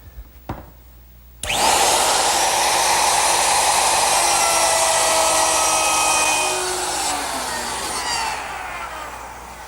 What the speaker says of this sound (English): set up my plunge router with a 1/2-inch straight cutting bit. And it's as simple as following along the edge of the guide